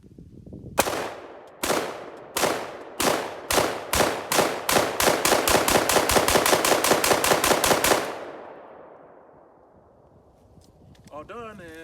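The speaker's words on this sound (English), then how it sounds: "So let me shoot a couple more rounds." An AR-15 rifle firing a magazine's worth of rounds in a test: about a dozen loud, close shots, spaced at first and then coming faster in a steady rapid string, with echoing decay after the last shot.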